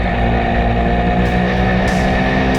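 Loud, steady Mahindra Mojo motorcycle twin free-flow exhaust rumble with dB killers fitted, a deep, throaty drone that holds close and continuous throughout, with slight swells in pitch.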